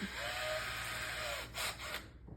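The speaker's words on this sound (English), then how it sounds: "I'm going to start with a smaller drill bit" A small drill bit bores into the top of a sculpted doll head, giving a steady high whirring whine with a couple of brief bursts as the bit bites in.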